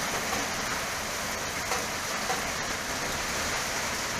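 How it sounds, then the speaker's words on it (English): Rain beats steadily on a metal roof during a barbecue, a dense, even hiss of drops close by that carries on unbroken throughout with no talking. "Barbecue, and rain. You can hear it on the metal roof here."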